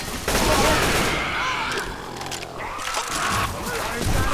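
Dense, continuous automatic gunfire and explosions in the zombie shooter Left 4 Dead 2, loud and chaotic, with a player's voice shouting over the shots.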